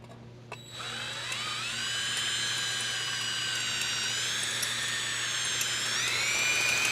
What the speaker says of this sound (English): When you drill them out, sometimes you got to wiggle the drill around.